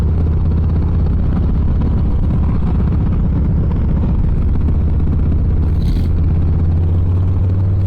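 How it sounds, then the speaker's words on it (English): A 2023 Harley-Davidson Low Rider S with a 117 cubic inch engine rumbles steadily and loudly at speed, a continuous low drone mixed with wind rush. "it's the 2023 Lowrider S, and it's got the 117 cubic inch motor in it"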